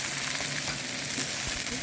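Sliced onion rings and red pepper matchsticks fry in a pan over lowered heat for a hot and sour potato stir fry, giving a dense, steady sizzle close up with no talking.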